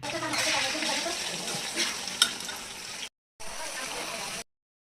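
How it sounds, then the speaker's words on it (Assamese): Potatoes frying in hot oil with a little salt and turmeric, a steady close sizzle and bubbling hiss that cuts out briefly, then resumes before stopping. "তেলখিনি গৰম হোৱাত তেলত আলু দি তাত অকণমান নিমখ আৰু অকণমান হালধি দি ভালদৰে ফ্ৰাই কৰি ল'ম।"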